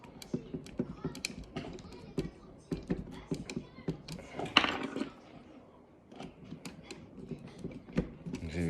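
Small parts of an Altaya Optimus Prime model kit being screwed together by hand, giving a run of close, light clicks, taps and scraping creaks with short pauses, fairly quiet and with no talking.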